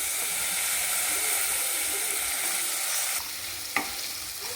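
Peeled potato pieces stirred into spiced gravy in a hot pan, giving a steady close sizzle and frying hiss with soft scraping stirs, then a quieter stretch broken by one sharp clink.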